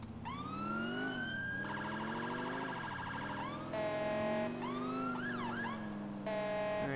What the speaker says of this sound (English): And I gotta change the siren also